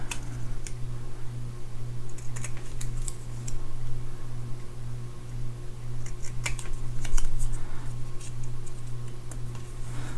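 Scissors trim a small paper card flag for a Thanksgiving gift card holder: a few sparse, crisp snips and clicks, close by, over a steady low hum.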